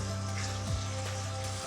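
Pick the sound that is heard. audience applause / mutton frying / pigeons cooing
mutton frying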